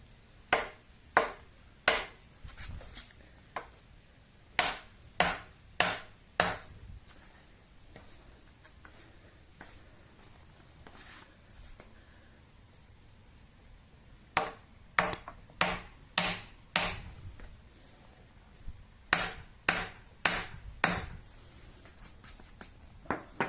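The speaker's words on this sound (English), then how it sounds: "It's hammer time, so I'm just going to tap it a few spots." Sharp metallic hammer taps on the cylinder head of a rough-running, power-losing Ford Ranger 2.3L engine come in quick clusters of three to five, separated by quieter pauses, each strike ringing briefly and close by.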